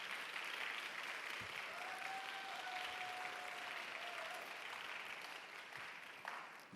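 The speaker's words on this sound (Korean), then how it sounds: "함께 좀 자리해 주시면 박수로 좀 환영할까요?" A church congregation at a Sunday youth worship service gives steady, sustained applause welcoming an engaged couple. The applause sounds fairly distant and soft and tapers slightly toward the end.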